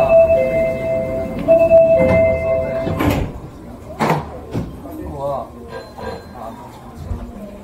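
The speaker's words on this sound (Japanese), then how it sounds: "扉が閉まります。 ご注意ください。" Doors of an Osaka Metro 400 series train slide shut at Asashiobashi station, with chime tones at the start, a couple of sharp thuds and clunks midway, and voices talking around them.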